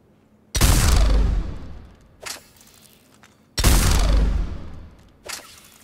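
Executioner heavy pistol fired in Mass Effect 3: two loud, booming single shots about three seconds apart, each with a long decaying tail and a brief softer mechanical sound after it, no voices.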